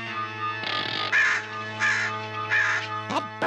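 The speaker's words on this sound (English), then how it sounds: "That bird gives me the creeps." Cartoon sound effect of a crow cawing: three harsh, evenly spaced caws over a steady droning music bed, ending with a short scratchy burst.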